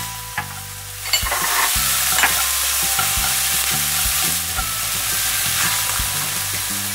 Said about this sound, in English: Now the peppers and the carrots will go in there. Stir that up nicely.